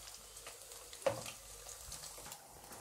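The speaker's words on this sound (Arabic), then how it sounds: "هقلب بقى لحد ما الليه تسلي كل اللي جواها" Sheep tail fat (alya) sizzles and crackles softly in a pan while being stirred, with a faint continuous fry and one sharper scrape or clink partway through.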